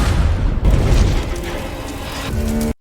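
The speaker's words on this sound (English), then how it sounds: "the trap was triggered, and Russell was forced to watch his father perish in a fiery explosion." A fiery explosion in a revenge action film, a deep booming blast with rumbling low end that rolls on for a couple of seconds, followed by a brief musical tone before cutting off.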